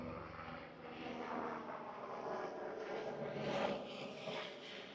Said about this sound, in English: Oh, here comes a helicopter.